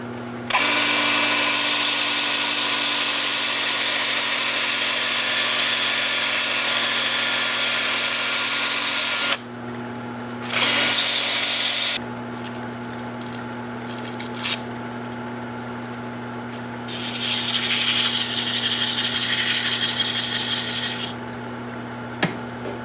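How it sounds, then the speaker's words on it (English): Hand sanding a wooden pedestal bowl's spindle and base with a sanding disc on a spinning wood lathe, a loud steady rasping hiss over the lathe motor hum, broken by pauses and a later renewed stretch. "sand the spindle part and the base by hand with that same disc"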